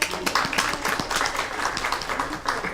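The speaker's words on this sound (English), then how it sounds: "Everybody clap." An audience at a talk on preventive health in the first 1000 days of life applauds, a steady patter of many hands mixed with cheering voices and chatter.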